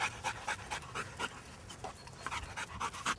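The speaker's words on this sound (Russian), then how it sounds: "Вот наши поисковые собаки." Search dogs pant rapidly in short rhythmic bursts at close range, with no talk over them.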